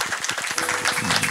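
A church congregation applauds the pastor in a brief burst of steady, dense clapping from many hands that fills the room.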